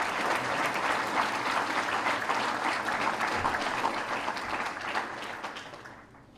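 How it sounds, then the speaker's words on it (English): Banquet audience at a hall of fame dinner applauding, a dense sustained wave of clapping from a large room that holds steady and then fades away at the end. "Round of applause for those guys."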